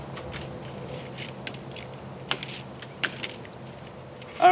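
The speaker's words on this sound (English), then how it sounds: "It's just that chain rattles" Chain rattling on an API Alumi-Tech Bowhunter aluminum climbing treestand: scattered light metallic clinks and jangles, a few sharper ticks standing out among softer rattles, close by and fairly quiet, with no talk.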